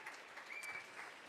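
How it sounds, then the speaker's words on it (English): Audience applause at a business pitch gala, a short, steady wash of clapping at a fairly low level with no voices over it. "So a round of applause, please."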